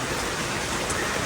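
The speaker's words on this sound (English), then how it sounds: "when it's raining, you just have the rain" Steady rain falling outdoors in rural Laos, a dense, even wash of drops pattering on surfaces, close and continuous with no pauses.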